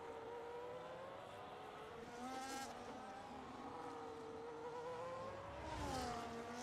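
A Formula 1 car in the F1 25 video game runs flat out at the Spain circuit, its high engine whine holding steady with slight pitch shifts and a brief rising surge near the end, faint overall with no talking.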